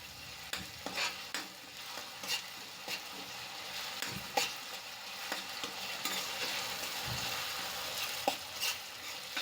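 Onion with ginger-chili paste sautés quietly in a pan for a Gujarati lilva kofta dish, a soft sizzle broken by regular scrapes and taps of a spoon stirring.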